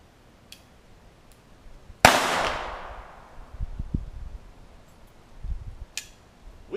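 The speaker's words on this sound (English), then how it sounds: "So this is a 22 long rifle out of a little 1911 model." A single sharp gunshot from a .22 Long Rifle round fired through a small 1911-style pistol in a backyard, loud and close, followed by a fading ring and light outdoor background noise.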